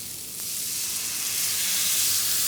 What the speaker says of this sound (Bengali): সো আমরা এখন আমাদের মশলাটাকে সেকেন্ড টাইম একটু কষিয়ে নিব।